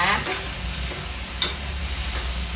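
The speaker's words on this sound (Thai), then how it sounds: "พอใส่บวบลงไปเราก็จะเติมน้ำเปล่าเล็กน้อย ให้บวบมันได้สุกนะคะ" Luffa gourd is stir-fried in a pan after a splash of water, with a dense, continuous sizzle and occasional scraping stirs close by.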